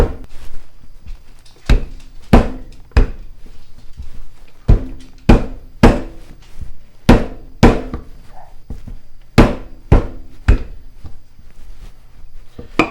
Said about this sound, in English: You're going to just start pounding this down.